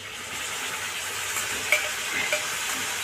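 Spice paste of garlic, ginger, green chili and cumin frying with potatoes and onions in a pan, a steady soft sizzle with a couple of faint clinks of a utensil, no talk.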